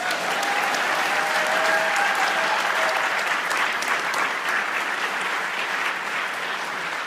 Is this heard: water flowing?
no